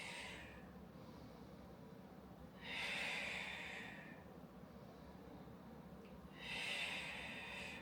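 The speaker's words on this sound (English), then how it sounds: "Inhaling and exhaling." Slow, deep breaths drawn in and pushed out during a floor exercise workout, two long airy breaths several seconds apart, close and breathy.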